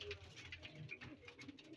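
High-flyer pigeons cooing inside a cage, soft repeated low coos close by with faint rustling, a voice speaking briefly in the background.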